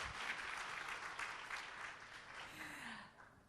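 Applause from an event audience after a software team is introduced at an opening speech, a dense steady clapping that fades in the final half second.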